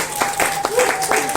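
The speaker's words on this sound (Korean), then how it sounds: "우리 환영하는 박수." A church congregation claps briefly to welcome a newcomer at a Sunday service, with a few separate claps under and between talk.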